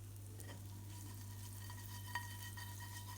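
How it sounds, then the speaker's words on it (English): Onions gently sweating in rendered bacon fat with a little butter, a faint soft sizzle with light crackles over a steady low hum. "My onions are still nicely sweating off with no coloration"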